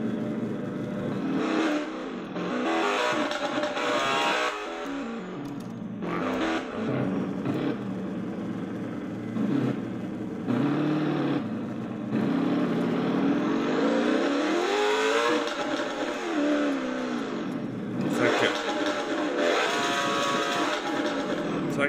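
A car engine in a racing video game revs and roars, rising and falling in pitch through gear changes and surges, loud and continuous throughout.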